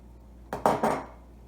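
An egg cracked against the rim of a bowl, three quick sharp taps and cracks in close succession, near and fairly crisp against a quiet background.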